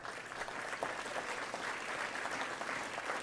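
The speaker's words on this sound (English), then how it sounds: "See how one guy started clapping?" Applause patters steadily throughout at a moderate distance, sounding more like a small scattered group than one pair of hands.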